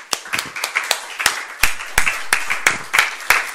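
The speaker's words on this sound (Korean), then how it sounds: "우리 주님께 감사의 박수 올립시다" A church congregation at a dawn prayer meeting claps in unison, about a dozen crisp, evenly spaced claps in a steady rhythm, close and clear.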